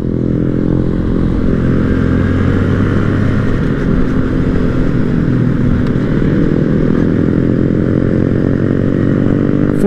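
A line of Porsche cars on a small-bore rally group ride along a mountain parkway, a loud continuous engine drone heard from close by inside or beside the car for the whole stretch, with no talk.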